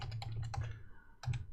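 Typing on a computer keyboard with a press of the enter key while setting up a Perforce virtual machine on Google Cloud; quick close clicks in a short burst, a pause, then a final pair of keystrokes, with no talk.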